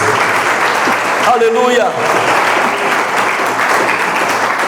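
A church congregation bursts into loud, sustained applause that fills the whole clip, with a voice calling out and chanting over the clapping.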